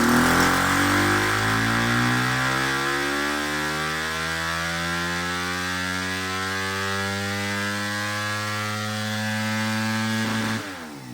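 A loud, steady Yamaha YZ300FX motorcycle engine with a 304cc Athena big bore kit drones at 50% throttle on a dyno, with strong harmonic tones slowly rising in pitch before cutting off abruptly near the end.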